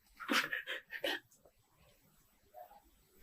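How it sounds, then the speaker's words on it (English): A dog breathes out loudly in short, snuffling bursts close up while calming down, followed by a quieter breath near the end, with no talking. "she's breathing out loudly, and that's when she's calming down"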